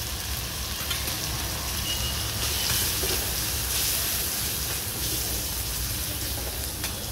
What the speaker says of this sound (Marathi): चांगला भाजून घेतो मसाला आपण